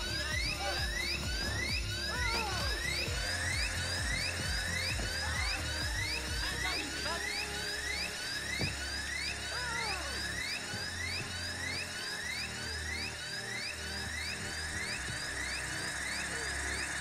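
A drill whirs steadily in Payday 2, its rising, repeating mechanical buzz sweeping upward again and again for the whole stretch, loud and close, with low rumbling game noise underneath and no talk.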